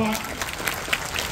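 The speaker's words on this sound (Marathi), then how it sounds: "एकदा जोरदार टाळ्या वाजवा" An audience at a book festival interview with an actress breaks into a brief burst of applause: dense, steady clapping from a crowd filling the whole moment at moderate loudness.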